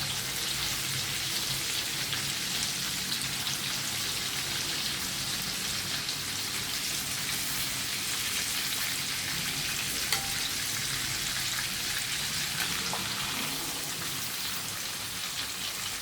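A pork chop fries in a pan with a loud, steady crackling sizzle, dense and unbroken like heavy rain, heard close up with no talking.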